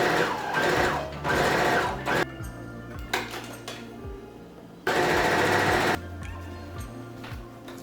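A sewing machine topstitches a spaghetti strap dress in two loud, steady whirring runs separated by quieter pauses with faint handling noises.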